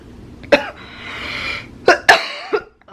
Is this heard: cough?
yes